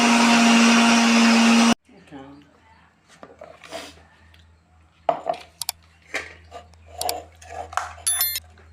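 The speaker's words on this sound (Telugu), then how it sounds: "సో ఇప్పుడు ఈ మొత్తాన్ని కూడా మళ్ళీ ఒకసారి మెత్తగా గ్రైండ్ చేద్దాం" An electric mixer grinder blends ginger and garlic into a paste in a short, loud whirring burst, then cuts out abruptly, leaving clinks of the jar and utensils being handled.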